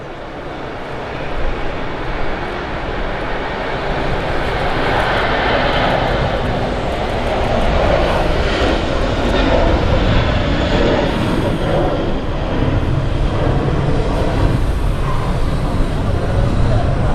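Etihad aircraft jet engines at Manchester Airport make a loud, steady roar that holds for the whole stretch.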